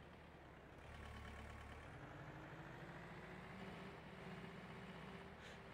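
A tractor engine from a Farming Simulator mod runs steadily with a continuous droning rumble and a faint rising whine, quiet and with no talk over it.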